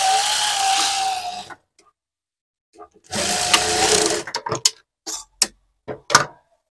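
Sewing machine running in two long bursts while double-stitching a sleeveless blouse, followed by short clicks and brief machine runs, with pauses of near silence between.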